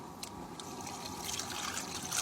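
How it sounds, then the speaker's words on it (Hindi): Cold water being poured into a cooking pot while making ras malai, a steady trickling, splashing pour running close by throughout with no speech. "ये ठंडा पानी मैंने डाल दिया है"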